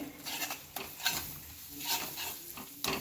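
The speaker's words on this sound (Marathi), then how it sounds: "कढीपत्ता, कोथिंबीर आणि हिरवी मिरची हे आपण यामध्ये घालून घेणार आहोत. छान मिक्स करून घ्यायचं" Curry leaves, coriander and a green chili paste stirred in a pan for a mint chivda, soft sizzling under repeated scraping stirs and a few clinks of a utensil against the pan.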